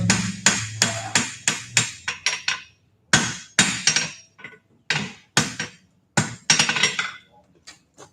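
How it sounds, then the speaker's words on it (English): Rhythmic hammer blows ringing on hot metal at a blacksmith forge as the pin of the hammer works a lump out of the middle, a fast run of sharp close strikes followed by irregular spaced bursts. "Now I'm going to take that lump out of the middle with the pin of the hammer."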